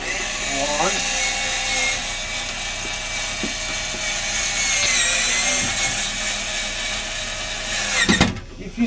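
A power drill driving a screw through a Z bar hanger into a wall stud, a sustained whirring and ratcheting mechanical drone close by, ending with a brief louder burst, under a speaking voice.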